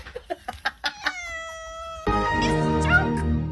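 Cat making a run of short clipped chirps, then a long drawn-out meow, followed by a loud burst of harsher squawking noise, close and clear with no speech.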